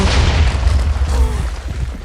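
Explosions in Minecraft around a golem and warden fight, a loud continuous deep rumbling boom that fills the whole moment with rolling low-end blasts and bursts, no speech heard over it.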